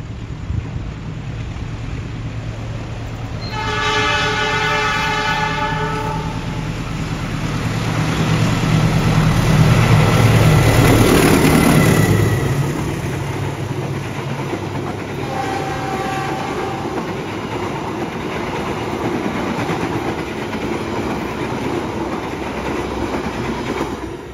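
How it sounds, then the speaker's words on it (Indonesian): Jaka Tingkir economy passenger train rolling along at night, heard from the last economy car with a steady rumble and clickety-clack of wheels, a horn sounding in the distance, and a louder surge of wind and track noise midway through. "Di perjalanan hari ini, saya naik kereta Jakatingkir di ekonomi 8, ekonomi paling ujung."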